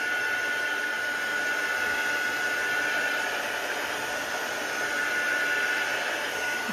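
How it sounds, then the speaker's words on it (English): A heat tool blows continuously while drying white ink on a card, a steady close whooshing hiss with a faint high whine, constant in level for the whole stretch and without any talking. "I'm just going to quickly dry the card just quickly with the heat tool to make sure that white ink is nice and dry"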